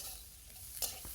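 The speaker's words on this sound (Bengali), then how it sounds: "গাজরটা দেওয়ার পরে হাই হিটে 3 থেকে 4 মিনিট ভেজে নিব।" Carrots and green chillies stir-fry over high heat in a pan, giving a steady close sizzle broken by a quick scrape and clack of the spatula, with no talking.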